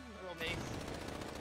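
Rapid gunfire bursts in a fast-paced shooter video game, a loud sudden onset followed by a steady rattling stream of shots, with a voice talking over it.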